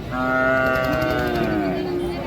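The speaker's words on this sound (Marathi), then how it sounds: "पेरणीच्या कामाचे बैल खूप मोठ्या प्रमाणात बाजारात दाखल झालेले" A single long, loud moo from a bullock at a crowded cattle market in Gevrai, Maharashtra, steady and drawn out, with faint background noise of the outdoor gathering.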